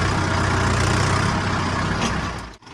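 A Mahindra Arjun 605 DI tractor engine runs hard at full throttle in a field with a disc harrow fitted behind it, a loud, steady, close diesel roar that drops off briefly near the end.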